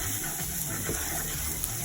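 Garlic fries in a very hot pan with a constant, hissing sizzle, a steady broadband crackle that holds at an even level throughout the short moment.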